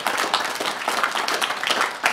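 Audience applause at a keynote session of a conference in Zermatt, close, busy clapping from a crowd with distinct individual hand claps heard throughout at an even level.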